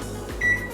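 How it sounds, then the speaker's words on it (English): A microwave oven runs with corn on a plate sprinkled with a little water, giving a steady close hum with a faint high tone, heard alone. "on a plate in the microwave for 5 minutes"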